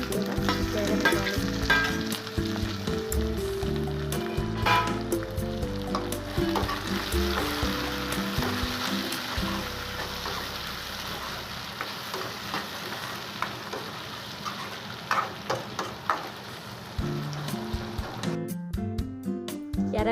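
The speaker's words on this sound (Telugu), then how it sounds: "ఆనియన్ వేగిన తర్వాత కట్ చేసుకొని ఉంచుకున్న టొమాటోని కూడా వేగనివ్వాలి" Chopped tomatoes fry with onions in a pan for homemade chicken curry, a steady close sizzle with occasional stirring scrapes running the whole time, no talk.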